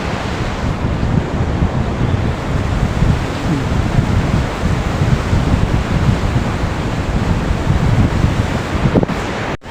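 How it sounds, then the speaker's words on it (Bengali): Floodwater from heavy rain rushing through a small river, several feet deep and swallowing trees, heard as a steady, loud broadband roar with wind buffeting the microphone throughout and no break. "এত বৃষ্টি মানে এত জল যাচ্ছে, প্রায় 8 ফুট 9 ফুট জল যাচ্ছে আর কি"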